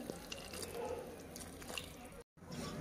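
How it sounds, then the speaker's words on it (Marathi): Hot water pours steadily into a pan of okra curry with a soft, continuous splashing hiss, fairly quiet, before a brief cut. "आता मी त्यात पाणी टाकते।"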